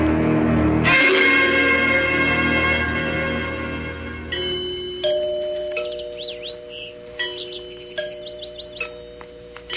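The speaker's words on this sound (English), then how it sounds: "Did you hear the chimes? It sounds like the bell in our tower." Chimes ring like a tower bell inside a grand house, with a loud struck tone at the start, a sustained decaying ring, then a series of lighter, higher chime notes striking one after another as the sound fades.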